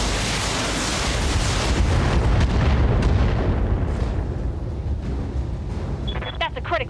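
Mech weapons fire a full broadside in the BattleTech video game, a dense, loud barrage of booming blasts and bursts that rolls on continuously, with electronic chirps near the end.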